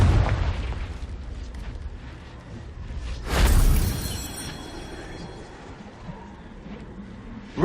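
In Hogwarts Legacy, the Confringo fire spell lands with a booming, crackling burst midway, its rumble fading into a quieter game background.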